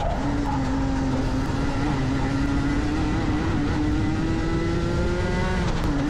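A racing go-kart engine drones steadily at high revs throughout a race, loud and close with a sustained whine that rises and falls slightly, with no voices.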